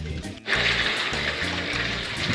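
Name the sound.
hot spring water flowing into a pool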